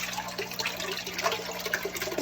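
A submersible filter in a turtle tank keeps the water constantly moving, making a steady, faint bubbling and trickling wash throughout with no talk.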